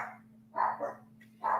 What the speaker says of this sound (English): Sorry, guys, about the dogs.